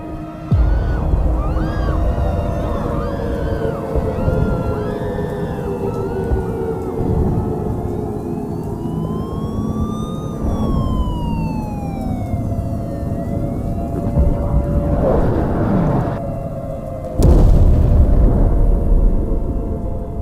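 Airstrike explosions as a sound effect: deep rumbling blasts under a wavering siren-like wail and sweeping tones, closing with a loud low boom near the end.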